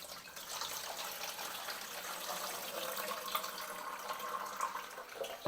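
Honey water scooped by hand from beeswax cappings while making mead: steady close-up sloshing and trickling of liquid, fairly faint and continuous, with no talking.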